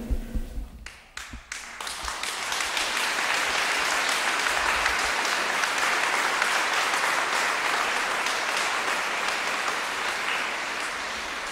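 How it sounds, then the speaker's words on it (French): Audience in a church clapping after an evening event, the applause starting with a few separate claps and swelling into a steady, sustained round that fills the space. "voudrais que vous applaudissiez Dominique Massoué"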